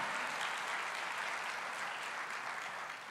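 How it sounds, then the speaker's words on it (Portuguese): A church congregation claps together in praise, a dense, sustained wash of applause heard at a moderate distance, fading slightly toward the end. "vamos aplaudir ao Senhor"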